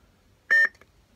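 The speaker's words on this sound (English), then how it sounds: "one beep is mute, second beep is a new sound bank" A single short electronic beep from a Saberforge lightsaber sound board, clear and moderately loud, against near silence.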